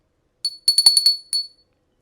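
A small hand bell rung several times in quick succession, giving bright, high tinkling strikes that ring out clearly with no voices over them.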